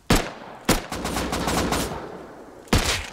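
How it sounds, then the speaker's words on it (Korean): Gunfire in a battle royale shooter video game: three sharp, loud shots at uneven intervals with rattling, echoing tails between them. "총소리 들려줄게."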